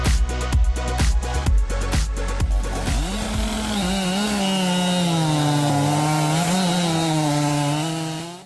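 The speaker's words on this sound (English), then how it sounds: "Those are some of the finest chainsaws I've ever laid eyes on." A chainsaw cuts through wood, first with several rapid revving bursts, then a sustained, loud, close whine of the blade biting steadily into the log before trailing off.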